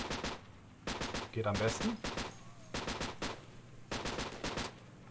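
Machine gun fire from an American M3 weapon in a Battlefield Korea game comes in several short rapid bursts separated by gaps, close and sharp, with someone speaking briefly between them.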